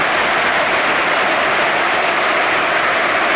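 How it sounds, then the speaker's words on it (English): Liverpool supporters in a packed football stadium applaud steadily during a match, making a continuous wash of crowd clapping heard from a distance. "the Liverpool supporters joining in the applause for the stricken Rodrigo Bentancur as he is taken off by stretcher"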